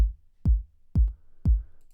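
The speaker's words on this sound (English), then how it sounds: "That will give me a really nice repetitive kick drum sound like this." Three evenly spaced kick drum hits programmed in Logic Pro for a dance music beat, each a deep, punchy thump with a quick decay into silence, clean and alone.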